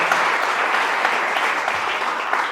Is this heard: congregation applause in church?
yes